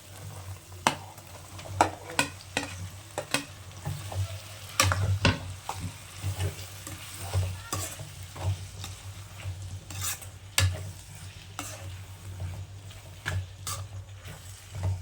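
Onions and ginger paste frying in a pan for a tomato egg curry, a steady close sizzle with repeated scraping stir strokes, then tomatoes tipped in and stirred.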